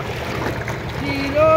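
A passenger-laden boat on a river near Mini Digha moves along with a steady wash of water and wind buffeting, a thin motor-like whine rising near the end, and faint voices in the background.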